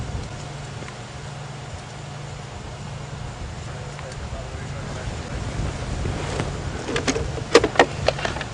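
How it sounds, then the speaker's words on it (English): Night wind blowing through the dark African bush during a safari drive, a steady low rush that builds toward the end with brief knocks and rustles near the microphone. "there's this wind starting"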